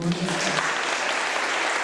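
Audience applause at a regional qualifying round for performers, a bright, continuous patter of many hands clapping, with a voice briefly audible at the very start.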